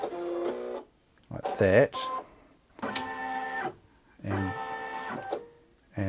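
A Brother Innov-is NQ3700D embroidery machine trims its thread with short mechanical whirring and clicking bursts, close and distinct, alternating with brief quiet gaps and a voice speaking between them.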